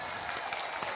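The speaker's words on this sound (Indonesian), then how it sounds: "Tepuk tangan" A brief, dense wash of audience applause runs steady and moderately loud through under a second, with no talk standing out.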